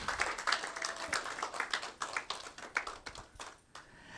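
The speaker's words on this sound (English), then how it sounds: "they are applauding" Participants in an online Zoom meeting applaud after a presentation on girls' education, a thin, uneven patter of claps and taps over several seconds, fairly close and modest in volume.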